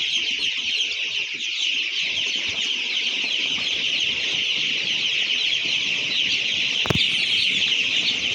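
Many chickens in a farm shed at night make a dense, continuous chorus of clucking and calls, steady throughout, with a brief sharp knock near the end and no talking.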